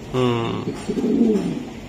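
Pigeons coo at a bird market where moulting pigeons, including Bombay, Lakkha, Baghdadi and highflyer breeds, are for sale, giving a close, fairly loud run of throaty cooing with no talk over it.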